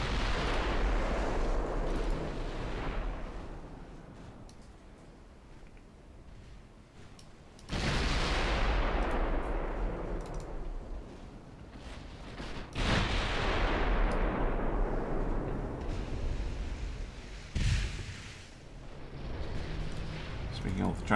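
Heavy battleship guns fire in a naval video game during a Dreadnought Improvement Project French campaign, with loud broadband booms at about 0, 7.7 and 12.8 seconds. Each blast is followed by a long rumbling decay, with talk running underneath throughout.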